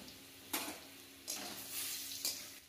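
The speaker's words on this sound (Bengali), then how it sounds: "এবার আমার আলু ভাজাটা কমপ্লিট হয়ে গেছে" Potatoes frying in hot oil with salt and turmeric give a steady low sizzle, broken by three louder bursts of scraping and stirring in the pan; no one speaks.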